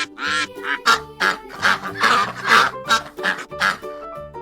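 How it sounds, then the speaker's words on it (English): A duck quacks in a quick series of about ten nasal calls, loud and close, with short gaps between them and a steady, uneven rhythm. "duck,"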